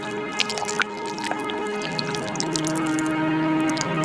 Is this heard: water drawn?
yes